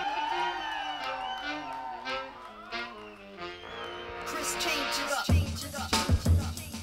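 A live audience at a South by Southwest comedy-podcast show cheers, whoops and shouts for a DJ. The noise swells loudly after an announcer's amplified voice and keeps going with bursts of yelling.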